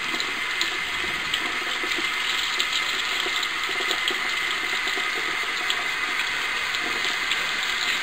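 Hot water runs steadily from a tap, a constant close hiss and splash with no change in level throughout, no voices over it.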